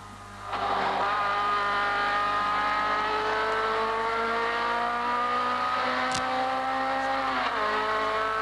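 Race car engines at the 1980 Hardie-Ferodo 1000 rise through steady upshifts, loud and close. A brief sharp squeal or clunk comes near the end, with no talking over it.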